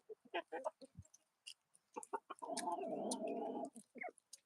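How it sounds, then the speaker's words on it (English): Chickens outdoors at sunset cluck softly in scattered short bursts, with one longer stretch of steady murmuring clucks, all faint and close. "I'm just hanging with these chickens, letting them get a little bit of outside time"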